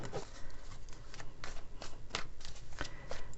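Tarot cards being shuffled by hand in a series of quick, crisp riffling bursts, close and fairly quiet, with no talking.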